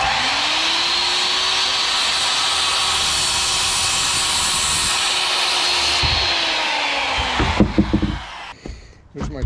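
Circular saw cutting a board for a heavy-duty 8x16 chicken coop, a loud steady whine running for about eight seconds before winding down, with a few knocks as the cut piece drops at the end.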